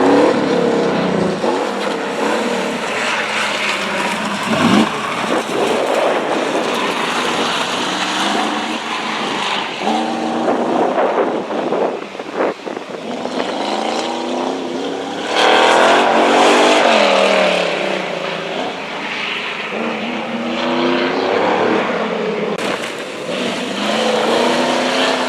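Pontiac Firebird race car running an autocross course in August 2020, its engine roaring loudly and continuously through the whole stretch with revs rising and falling between corners, no talk over it.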